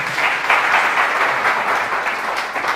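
A crowd at an embedded systems and robotics gathering claps together in a brief, full round of applause, steady and loud from start to finish, with no one speaking.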